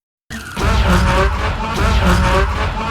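A car engine roars with skidding tires in a Pennzoil ad about the last Viper, bursting in loud and close after brief silence and holding a gritty, squealing rumble.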